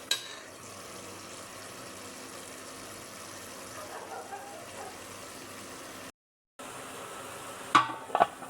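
A pot of water boils steadily on a stove while lunch cooks, giving a soft, constant bubbling hiss. There is a short gap, then a couple of faint clatters near the end.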